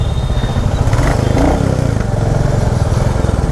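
A Classic 350 motorcycle rides through a traffic jam on VIP Road with a loud, continuous low engine rumble. Constant road and traffic noise surrounds it, and no horns stand out.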